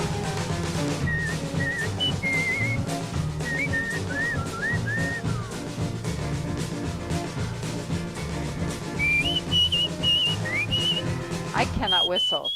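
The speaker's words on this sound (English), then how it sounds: "There seems to be a lot of whistling going on." Several people whistle short tuneful phrases during an indoor fitness class, the thin whistles rising and falling over a busy background of music and room noise.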